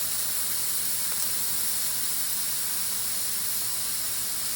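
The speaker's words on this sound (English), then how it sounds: "Now I will saute these vegetables until they get a bit of color on them." Frozen vegetables dropped into a hot pan with melted fat sizzle in a loud, continuous hiss that holds steady and close throughout, with no talking.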